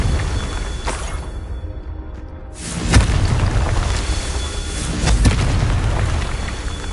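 In the video game Hogwarts Legacy, the Confringo fire spell sets off heavy booming explosions: a deep blast around midway and another near the end, over a continuous rumbling roar, loud and close.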